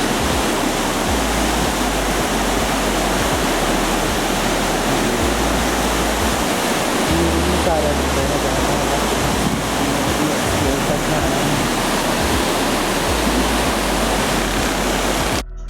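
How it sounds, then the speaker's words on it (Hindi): Glacier meltwater stream in Upper Dir pouring into the river, a loud, steady rushing roar of fast water with broad noisy texture throughout, no voices over it. "ये सारा पानी यहाँ पर रिवर में शामिल होता है।"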